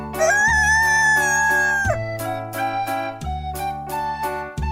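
A rooster crows among farm animal sounds, with a long drawn-out call at the start followed by shorter rhythmic calls over steady musical accompaniment.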